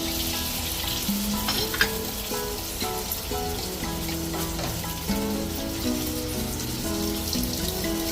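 Eggplant omelette sizzles and spits steadily in a frying pan, with a continuous crackle of hot oil and a few faint clinks of a utensil against the pan, heard up close.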